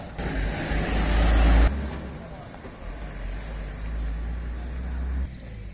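A taxi drives along a road in Belize, its engine a steady rumble with a brief louder surge early on before settling into a continuous drone heard from inside or close by.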